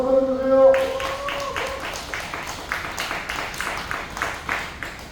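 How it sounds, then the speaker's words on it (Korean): Applause and clapping from an audience at a Busan car parade launch ceremony, starting after a voice and continuing as a steady patter of claps for several seconds. "박수 주세요"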